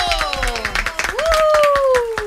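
An audience claps through a Spanish-language awards show, the 2023 Lengüetazo Awards, with bursts of applause under a raised voice calling out over it.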